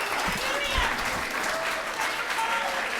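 An audience at a student-union candidate debate applauds the panelists, with steady, moderately distant clapping lasting the whole stretch and a voice speaking over it.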